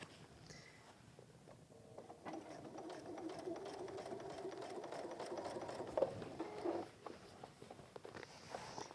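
A sewing machine runs steadily, sewing a second line of stitches on a messenger bag with a lengthened stitch, a close, continuous whirring patter at moderate level with a couple of brief bumps near the end.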